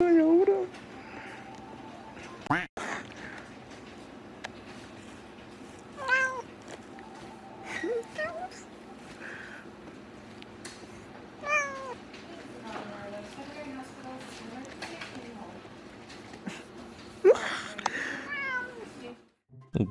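A cat meows repeatedly from inside a pet carrier, with several distinct calls spread over a steady low background hum and scattered faint noises; no speech is heard.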